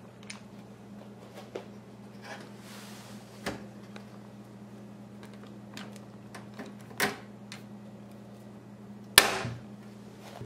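Rivets are set into an old computer case, heard as a few isolated sharp taps and clacks spaced several seconds apart over a low steady hum, quiet and close.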